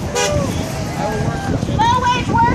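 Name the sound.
passing cars honking horns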